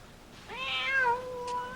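A cat meows once, a clear, rising-then-falling tonal call of about a second, fairly close and alone over a quiet background, followed by a faint brief higher chirp.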